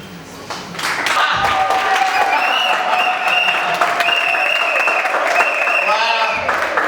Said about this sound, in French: nous allons acclamer pour les parents